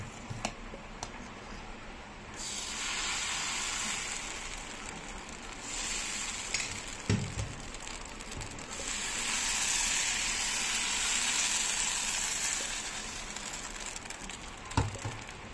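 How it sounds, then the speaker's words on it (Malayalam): Palappam batter is poured into a hot appam pan on the stove, bringing a faint, soft sizzle that rises in two gentle waves, with scattered light clicks and taps between them. "നമുക്കിനി ഈ മാവ് അതിനകത്തിലോട്ടൊന്ന് ഒഴിച്ചു കൊടുക്കാം."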